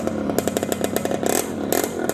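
A trail motorcycle engine revs with a rapid, buzzing, rattly pulse, loud and close, running steadily without speech.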